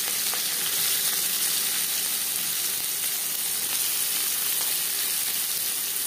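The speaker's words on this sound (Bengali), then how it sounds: "পেঁয়াজ হালকা করে ভেজে নেব।" Chopped onion frying in hot oil in a wok gives a steady, close sizzle that carries on unbroken throughout, with no voices.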